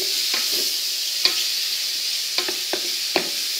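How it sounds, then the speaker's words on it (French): Mushrooms and lardons fry steadily in a pan, giving a continuous close sizzle with a few soft stirring clacks of a utensil scattered through it and no voices. "plus la cuisson va se faire, et plus les champignons vont se transformer."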